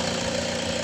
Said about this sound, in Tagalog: nagbago yung kanyang performance kasi nagbago yung kanyang idle ng konti